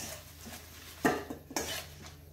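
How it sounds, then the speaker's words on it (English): Salad with parmesan and creamy dressing gets tossed in a bowl, with a few soft clinks and scrapes of utensils against the dish, quiet and close, with no talking. "Okay, you can give that a good toss through"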